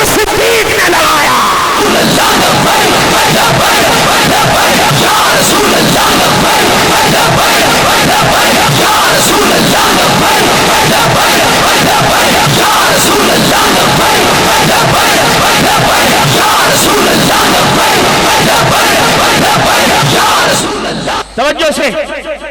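A large crowd at a religious gathering chants a slogan in unison, loud roaring voices rising together and holding in sustained waves, very close and dense, then fading abruptly near the end.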